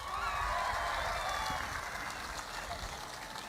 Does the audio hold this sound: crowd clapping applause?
yes